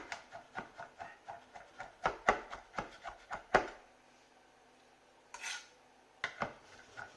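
Rapid knife chopping on a board while preparing a poached-egg dish: a steady run of close, crisp taps for several seconds, a pause with a faint scrape, then a few more chops.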